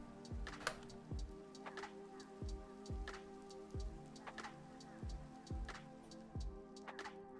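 Rain falls in the Minecraft modpack Crazy Craft, a soft, continuous patter of drops heard faintly, while regular low thuds pulse beneath it.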